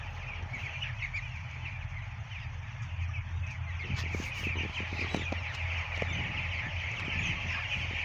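Broiler chicks at day 17 in a poultry shed make a constant dense chorus of peeping and clucking under a steady hum of shed noise, with a few sharper clicks and knocks in the middle.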